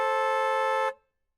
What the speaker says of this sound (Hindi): इतने ऊंचे हॉर्न मेरी गली में।